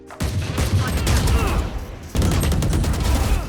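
Rapid gunfire crackles in a first-person shooter match, two sustained bursts of close, loud shots separated by a brief gap, with game sounds layered through.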